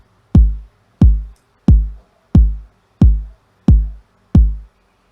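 Seven evenly spaced boom bap kick drum hits at about 80 to 90 BPM, programmed in beatmaking software, each a loud, deep, punchy thump with a short decaying tail and silence between.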